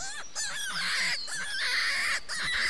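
Crow cawing in the hunting video game Hunting Simulator, a few loud, harsh, nasal calls repeated close by in short bursts.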